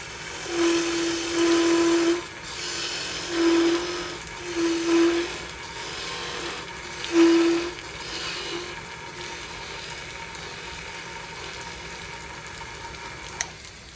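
A wood lathe turning a kendama sword hums in the background while the cutting tool bites in again and again, giving short whining pulses of different lengths that then settle into a steady motor drone.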